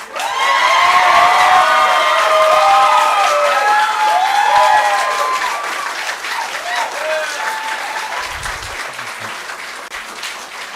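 A school board meeting audience breaks into loud, sustained applause with cheering and whoops. The clapping stays strong for several seconds, then slowly thins out.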